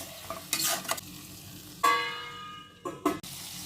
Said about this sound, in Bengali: অল্প অল্প জল দিয়ে মশলাটা ভালো করে কষিয়ে নেব।